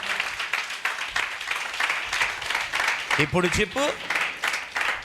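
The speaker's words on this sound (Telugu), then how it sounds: "చప్పట్లు కొట్టు, గట్టిగా" Church congregation at a Sunday service clapping hands loudly in a fast, continuous patter, with a voice briefly speaking over it midway.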